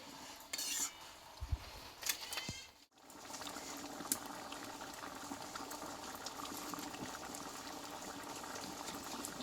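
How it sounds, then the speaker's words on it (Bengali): Vegetarian Bengali pea dal (motor dal) bubbling steadily in a pot, a continuous close simmering wash with a few metal clinks of a spoon against the pot near the start. "এইবার ডালটা আমি আরও দু মিনিট মতো ভালোভাবে রান্না করে নেব"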